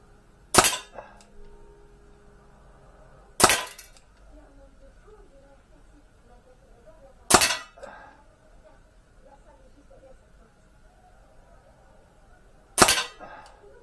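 Four sharp, loud cracks from an Artemis CP400 air pistol fired with Geco Superpoint pellets, spaced several seconds apart, with quiet background between shots and a voice talking faintly at times.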